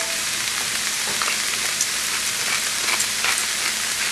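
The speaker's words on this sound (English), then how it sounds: "now we're going to saute some onions. And we're going to add some garlic to it." Onions and garlic sautéing in a pan give a steady, close, loud sizzle and crackle that holds evenly throughout, with no talking.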